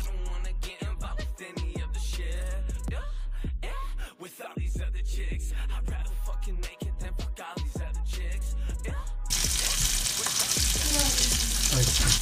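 Potato slices for Bratkartoffeln being laid into hot onion-flavoured oil in a pan, with clattering placements and rising sizzle that turns into a loud, steady frying hiss in the last few seconds.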